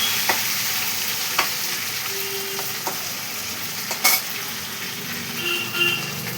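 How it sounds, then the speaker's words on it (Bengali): Potatoes frying in oil in a pan with bay leaves: a steady close sizzle, with a few sharp clicks and scrapes as the pieces are stirred. "আলুটা ভাজা হচ্ছে"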